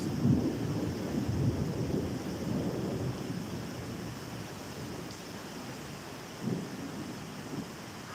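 A thunderstorm rumbles in low, rolling waves with steady wind buffeting the microphone, then swells briefly again near the end; no voices are heard.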